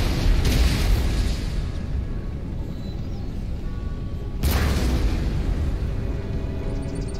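Cannons firing canister shot during an Empire Total War battle, a dense rumbling din of blasts with a sharp loud volley burst partway through, continuous and close with no talking.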